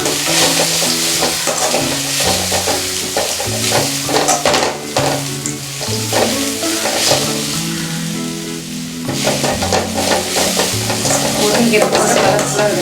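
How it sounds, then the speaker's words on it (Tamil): Drumstick leaves being stirred and sautéed in a hot pan, a continuous loud sizzle broken by repeated scraping strokes of the spoon, close and steady with no talking. "முருங்கைக்கீரை போட்டு கொஞ்சம் ரொம்ப வதங்கணும்னு ஒன்றும் அவசியம் இல்லை, சும்மா கொஞ்சம் வதக்கிட்ட போதும்."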